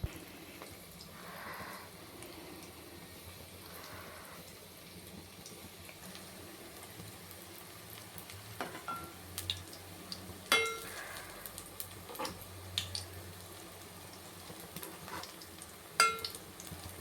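Bread pieces frying in hot oil until golden brown, a soft steady sizzle with occasional clinks and stirring knocks from a utensil, fairly quiet and without talk.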